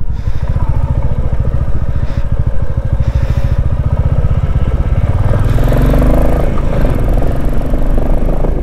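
A motorcycle engine drones loud and close as the bike climbs a snowy mountain road between Zing Zing Bar and Manali in Ladakh, its throbbing note rising and thickening in the second half.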